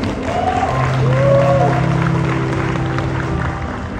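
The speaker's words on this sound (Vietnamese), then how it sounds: "quý vị dành một tràng vỗ tay cho điều kỳ diệu này" Studio audience applause on a Vietnamese TV show, continuous clapping with a sustained tonal sound and a few sliding tones over it, fairly loud and steady for the whole span.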